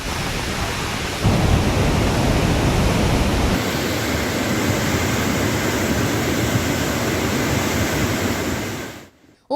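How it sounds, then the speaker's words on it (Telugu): Heavy monsoon rain pours steadily across Nizamabad district, Telangana, a loud dense roar with a deep rumbling undertone, unbroken for several seconds before fading out near the end. "ఉమ్మడి నిజామాబాద్ జిల్లా వ్యాప్తంగా భారీ వర్షాలు కురుస్తున్నాయి."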